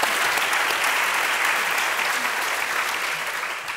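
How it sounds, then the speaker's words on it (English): An audience at a tech panel discussion gives a warm round of applause for the panel speakers, dense steady clapping that fills the room and holds throughout, slowly easing toward the end. "Give them a warm applause"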